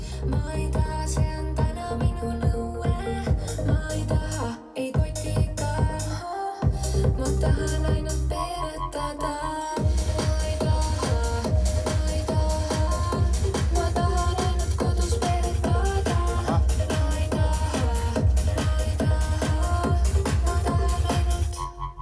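A full recording of an unreleased song by an Estonian artist plays throughout, with a steady beat, bass and layered instruments; briefly sparser near the start, then dense and continuous.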